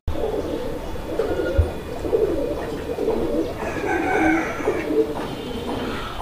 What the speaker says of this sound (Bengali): এখানে এক জোড়া চিলা কবুতর আছে